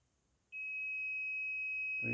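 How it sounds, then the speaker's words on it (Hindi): Continuity-mode beep from a multimeter as its two probes touch: a steady, loud, pure electronic tone that starts sharply and holds without a break, with a faint handling clunk at the very end. "तो ये बीप करता है। ये बीप का मतलब है कि यहाँ पे कंटिन्यूस कनेक्शन है।"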